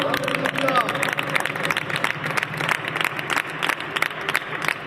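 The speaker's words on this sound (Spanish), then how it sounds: "Dale ese aplauso a tu Dios." A church congregation applauds, rapid overlapping claps forming a loud sustained patter, with voices and crowd murmur mixed in throughout.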